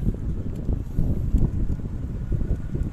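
Steady low rumbling wind buffeting the microphone while riding a mountain bike on a road with a tailwind, gusty and continuous throughout.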